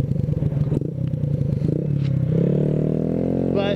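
A motorcycle engine rumbles and then revs up as it pulls away, with some clattering and scraping early on and a brief voice near the end.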